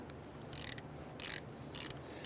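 A ratchet with a 5/16 deep socket loosens a rusty, penetrant-soaked bolt on a 1999-2004 Jeep Grand Cherokee's upper ball joint, making three short bursts of rapid clicking close by, spaced by quiet pauses.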